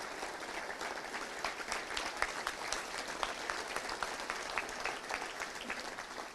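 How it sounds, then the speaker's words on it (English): Audience applause at a Little Rock Touchdown Club luncheon honoring athletic directors, a steady dense wash of many hands clapping for several seconds, moderately distant and even in level. "Let's give them a round of applause."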